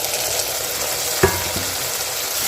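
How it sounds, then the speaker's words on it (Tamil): Chopped onions and green chillies sauté in a pan for a mutton head curry, a steady soft sizzle broken by a clack of the stirring spoon partway through. "வெங்காயம் நல்லா வதங்கட்டும்."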